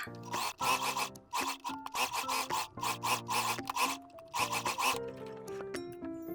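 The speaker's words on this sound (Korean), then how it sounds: "오바락 노루발로 바꿔서 지그재그 스티치 해줍니다." A sewing machine with an overlock presser foot runs a zigzag stitch on linen blouse fabric. It whirs in rapid, close bursts with brief pauses between them, alone with no talk.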